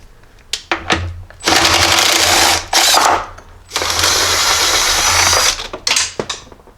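Loosening the terminal posts on a Jeep battery with a 1/2-inch wrench and a tool driving out 13mm bolts: two long, loud whirring bursts, set between short rattling metallic clicks and knocks, heard close with no talking.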